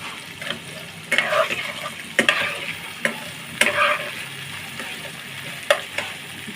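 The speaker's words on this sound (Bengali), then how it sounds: "পেঁয়াজ রসুনটা আমি একটু ভালো করে ভেজে নেব" Onion and garlic fry in a pan for a hotel-style brinjal bharta, with a constant soft sizzle and several sharp scrapes and clinks of stirring over it. Nobody speaks.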